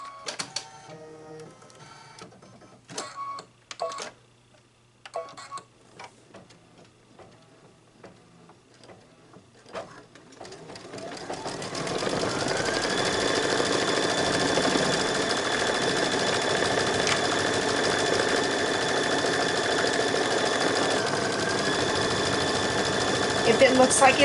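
An embroidery machine stitching out a snowball design starts up after some brief handling clicks and knocks, then runs in a fast, steady, close mechanical chatter until the end.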